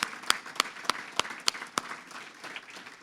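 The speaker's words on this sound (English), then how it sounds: "Let's give the whole team a round of applause" A luncheon audience at a chamber of commerce event claps, with a handful of sharp, evenly spaced claps standing out over a soft, steady bed of applause from across the room.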